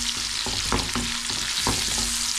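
Onion and spinach fry in a pan, giving a steady close sizzle with a few clacking stirs of a utensil, and no one speaks.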